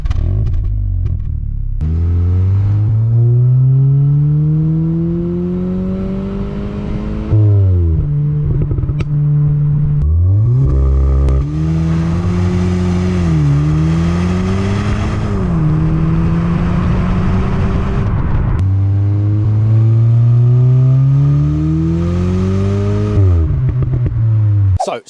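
A 2022 Cupra Formentor engine revs repeatedly through its quad exhausts, loud rising and falling blips with a deep burbling idle between pushes, close and without speech.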